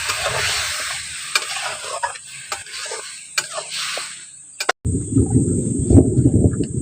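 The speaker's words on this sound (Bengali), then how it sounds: "জল সমেত দিয়ে দিচ্ছি মোচাটা দিয়ে ভালো করে মিশিয়ে নিচ্ছি" Boiled banana blossom with its cooking water tipped into a pan and mixed, giving a close wet stirring and scraping with light sizzle, then a denser bubbling churn after a brief break.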